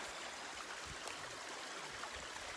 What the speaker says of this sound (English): Just enjoying this stream.